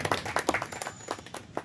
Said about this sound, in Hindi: हम सब जोरदार तालियों से पुनः अभिनंदन करना चाहेंगे।